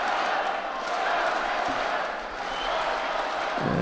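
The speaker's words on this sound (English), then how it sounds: "Absolutely amazing crowd." A packed judo arena crowd at an Almaty Grand Prix keeps up a loud, steady roar of cheering and chanting, dense and continuous, with a commentator's voice mixed into the din.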